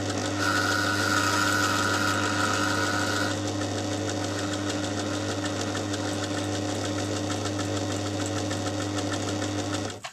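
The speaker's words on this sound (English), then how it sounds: "this is just a basic domestic sewing machine" Steady, loud mechanical whirring and rapid needle clatter from a basic domestic sewing machine running a zigzag stitch along a seam in denim jeans for a tote bag, continuous until it stops near the end.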